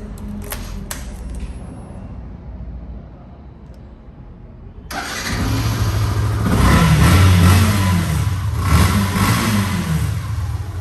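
An old motorcycle in fresh condition self-starts after a quiet lead-in with a few clicks, its engine catching into a loud, close rumble that revs up and settles into a steady run.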